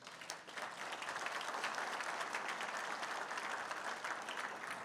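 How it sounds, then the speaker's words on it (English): An audience claps for itself at a 50th anniversary celebration, a dense, even wave of applause that swells quickly and holds steady, filling the room. "please applaud yourself"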